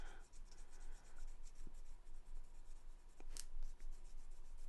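Soft wax colored pencil held on its side and shaded across paper, a continuous dry scratchy rubbing that sweeps back and forth at close range, fairly quiet and steady with no talk.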